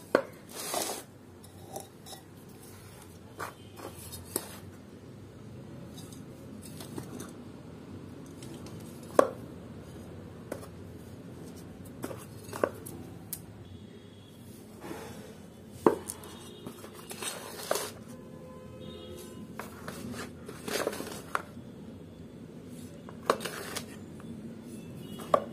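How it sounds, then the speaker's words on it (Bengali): Loose potting soil is scooped and dropped into a flower pot while planting lily bulbs, giving soft scraping, crumbly rustles and light knocks against the pot, close and fairly quiet, with no talking. "এইভাবে আমি মাটিগুলো সুন্দর করে দিয়ে দিলাম।"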